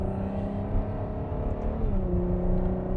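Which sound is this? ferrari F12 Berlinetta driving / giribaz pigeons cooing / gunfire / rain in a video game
ferrari F12 Berlinetta driving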